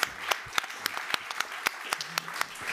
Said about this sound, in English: Please give a good round of applause to the panelists.